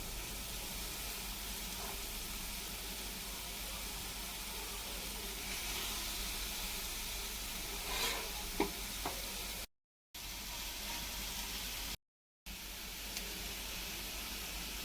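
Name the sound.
marinated masala fish frying in oil on a tawa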